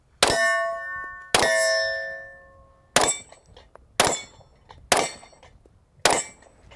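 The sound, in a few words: bullets hitting steel targets, ringing dings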